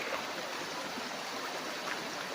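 Steady rushing of a flowing river beside a farm lot in Real, Quezon, a continuous broadband hiss like a nearby stream, with no talking.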